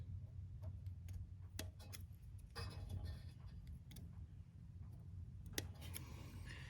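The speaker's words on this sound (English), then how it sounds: "Let's trim these extra little strings off these socks." Small scissors snipping stray strings off fabric Coleman lantern mantles for a 1951 Coleman 228E, a few quiet crisp snips scattered over a steady low hum, close by.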